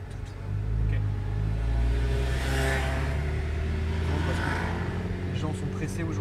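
A Renault Megane RS in race mode accelerates, its engine rising into a loud, rumbling rev that builds and holds, with a voice talking faintly over it.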